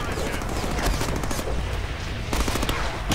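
Rapid gunfire in the Deadpool video game on PC, sustained bursts of automatic shots rattling loudly, with a brief lull in the middle before the firing resumes.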